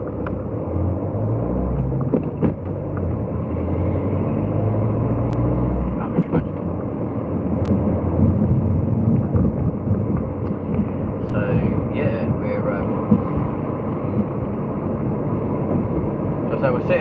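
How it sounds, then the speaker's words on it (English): An airliner's engines rumble steadily while it takes off at Heathrow Airport, a broad, continuous low roar heard from the airfield edge with wind buffeting the microphone. "Literally, you can just feel everything just like rumble as one of those takes off."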